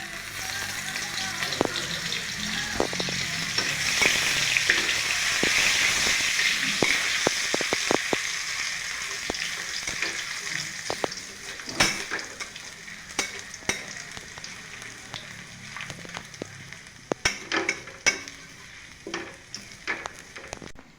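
Cumin seeds, two dry red chillies and crushed ginger sizzle in hot oil for a kochu shak dish, a steady close hiss that thins out and gives way to sharp scattered crackles and pops.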